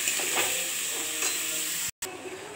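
Ash gourd curry fries in a pan while being stirred, giving a loud continuous sizzle with scraping strokes. A short gap of silence breaks the sound near the end.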